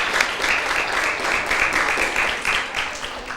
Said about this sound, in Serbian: Moj aplauz za Aleksandru.